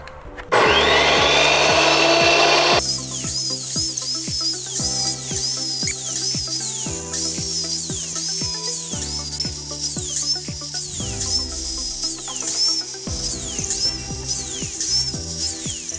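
A high-speed cutter fitted with a Maxgear 12-inch cermet metal-cutting circular blade spins up loud and close. It then grinds through metal stock in a long, sustained, bright shriek with shifting pitch and brief dips as the cut progresses.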